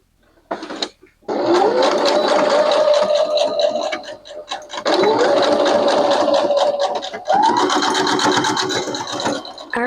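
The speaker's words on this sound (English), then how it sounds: "I'm just going to run it back and forth with a stitch" Sewing machine stitching back and forth to secure an elastic band while altering office-wear pants, running in steady loud bursts with short pauses between passes, the motor pitch rising at each start.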